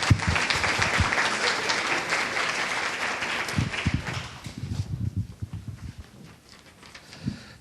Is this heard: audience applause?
yes